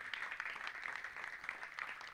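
Applause from a crowd at the prize ceremony of a cricket league, the Divine Premier League season 4, as a steady, fairly distant wash of many hands clapping throughout.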